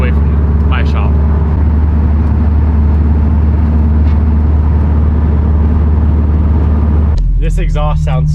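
A car's aftermarket exhaust on a base engine tune, a deep, loud, continuous drone while driving, with voices talking briefly over it near the start and end.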